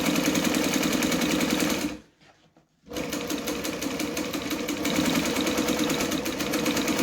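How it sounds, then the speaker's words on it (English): Sewing machine running steadily while stitching close to the edge of lining fabric, a loud continuous mechanical whir that stops briefly for about a second, then resumes at the same pace. "I'm just stitching very close to the edge of that fabric"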